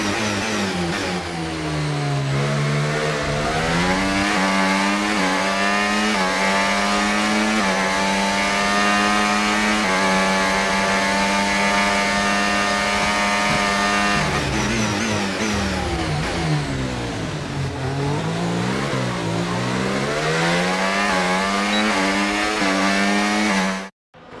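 Formula 1 race car engines scream in the F1 25 racing game at the Red Bull Ring. A loud, close engine note rises and falls through upshifts, downshifts and braking for corners, and it stays constant over the whole stretch.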